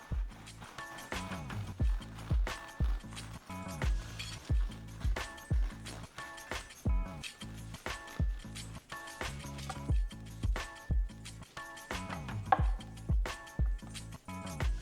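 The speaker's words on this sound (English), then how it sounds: "Let's slice into one and check out the beautiful crumb structure inside." A knife saws through a fluffy homemade burger bun in a steady run of short cutting strokes, each a brief scrape or thud, close and moderately loud over background music.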